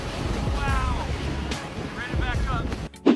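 Rough, roaring surf of storm waves crashing against icebergs, with gusting wind buffeting the microphone and a few faint tonal cries over the churning water, ending in a short bump.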